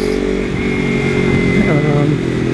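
A motorcycle rides on wide Delhi roads, its engine droning loud and steady, with someone talking over it the whole time.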